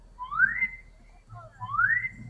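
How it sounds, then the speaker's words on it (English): Two rising wolf whistles ring out at a dairy festival parade in Sulphur Springs, Texas, each a bright upward sweep, clear and fairly close over faint crowd rumble. "The wolf whistle."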